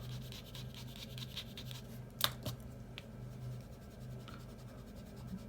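An eraser rubs across a ballpoint pen drawing on paper: faint, soft scrubbing strokes with one brief sharper scrape midway, no voices.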